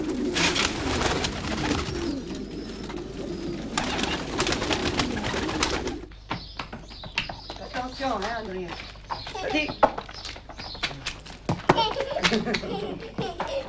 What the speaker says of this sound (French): il élève des pigeons